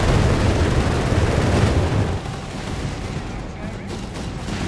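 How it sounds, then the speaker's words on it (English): Artillery and gunfire in Company of Heroes 3: a loud, dense rumble of blasts and rattling fire that eases slightly midway, continuing as a steady, heavy battle din. "We got artillery calling as well here."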